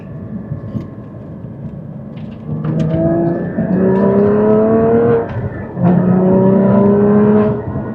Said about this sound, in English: They're chip seal roads, so there's a lot of road noise.